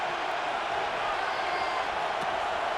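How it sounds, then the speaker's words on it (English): Stadium crowd in Madden NFL 26 roaring steadily during a Detroit Lions at Minnesota Vikings game, a dense continuous cheer heard alone without breaks. "This crowd into it now as we get to third down."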